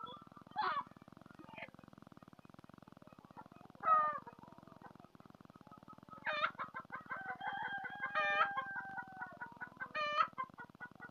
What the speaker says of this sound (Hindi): ये माशाल्लाह मुर्गियां बैठी हुई हैं अंडा देने के लिए।